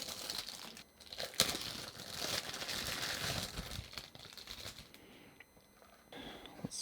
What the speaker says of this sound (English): Let's go ahead and pull it out of this plastic bag.